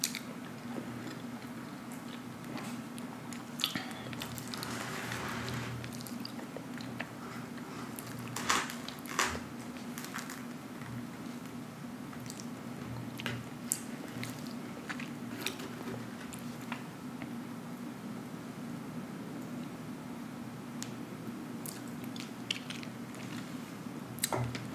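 Pizza being bitten and chewed up close, with soft wet crunches and munching that repeat steadily over a quiet background hum.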